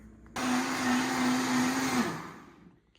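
A Vitamix blender blends kefir and sauerkraut, starting suddenly with a loud, steady motor whir that holds for about a second and a half, then winds down and fades out.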